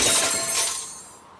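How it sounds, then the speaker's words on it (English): A brand-new outdoor grill hurled off a 20-story building crashes with a single loud, bright shattering impact that rings out and then quickly fades. "This is the sound of a brand new outdoor grill being hurled off a 20-story building."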